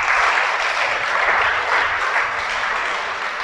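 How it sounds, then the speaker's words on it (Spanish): Steady, dense applause from an audience at a religious sermon, loud and continuous throughout with no voices over it. "Dale un aplauso al Creador."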